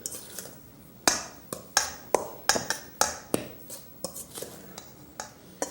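A utensil stirs ingredients in a bowl, producing a rapid series of sharp clinking taps against the side, close and fairly loud, about a dozen strikes in uneven rhythm.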